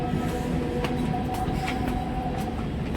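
A local train rumbles steadily at a station, a continuous low mechanical drone with faint metallic clatter and no voices.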